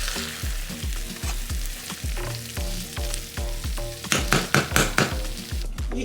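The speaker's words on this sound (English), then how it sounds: "Stir it up." A spoon stirs jollof rice in a pot, giving rhythmic scraping strokes about twice a second over a soft sizzle, with sharper louder scrapes near the end and no talking.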